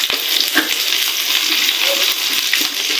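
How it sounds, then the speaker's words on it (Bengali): Garlic and onion fry in hot oil with dried chillies, giving a dense, continuous sizzle, close and loud, with occasional light clicks of a utensil against the pan. "এবারে দিয়ে দেব রসুন আর"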